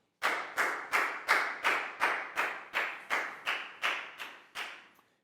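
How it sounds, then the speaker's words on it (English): A class in a Year 4 English lesson claps together in unison, about a dozen sharp, evenly spaced claps over five seconds, each ringing briefly before the next, with no voices. "Big round of applause for Prel,"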